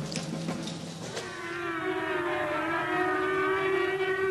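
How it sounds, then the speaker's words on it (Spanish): Air raid siren sounding a night blackout signal, a sustained wailing tone that rises in pitch and swells louder, sounding alone without talk. "el sonido de esta sirena indica que deben ser apagadas todas las luces"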